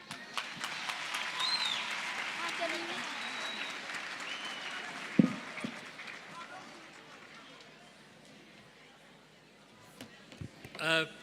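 Applause for two high school teams at the National Science Month launch ceremony, a moderate wash of clapping that fades through the middle, with a few knocks and a brief louder burst near the end.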